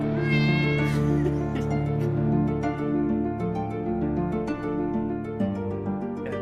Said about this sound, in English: Goddamn cat noises.